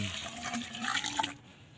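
Water from a bucket gushing into a buried PVC or bamboo pipe beside garden plants during a drought, a short, close splashing pour that cuts off after about a second and a half.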